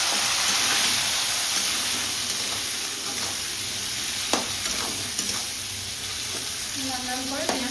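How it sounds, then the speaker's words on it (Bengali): Chopped onion goes into hot oil already tempered with whole cumin, producing a loud, constant hiss and sizzle close by, with occasional clicks of stirring and some faint tonal sounds near the end. "লাল লাল করে পেঁয়াজটা ভেজে নিতে হবে।"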